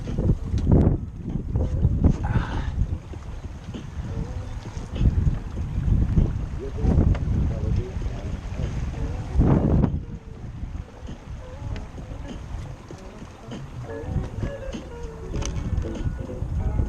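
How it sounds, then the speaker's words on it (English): Wind buffeting a small Holder 12 sailboat out on Oceanside Harbor, loud gusty rumble and microphone wind noise throughout, with water sloshing against the hull and faint voices in the background. "we got some wind"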